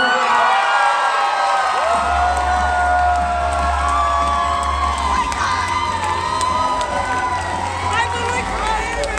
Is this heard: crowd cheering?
yes